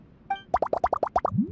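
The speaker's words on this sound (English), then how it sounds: "I'm gonna add all the remaining ingredients." Ingredients are dropped into a drink in the Genshin Impact video game, a rapid series of about eight bubbly cartoon plops after a short chime, ending in a rising swirl.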